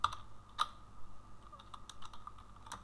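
Keyboard typing while entering CSS code on a computer, a few sparse, light key clicks spread unevenly across a quiet room, faint and close.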